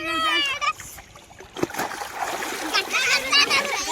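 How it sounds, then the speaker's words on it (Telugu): Water splashing as someone swims in a river, close and lively bursts of splatter under excited voices of people talking and children calling out. "ఇప్పుడు నేను అయితే ఈత కొట్టు పోతున్నా"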